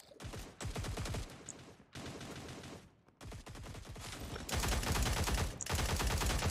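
Rapid bursts of automatic gunfire in a shooter video game, dense volleys that stop briefly, then grow louder and more continuous toward the end, with no talking.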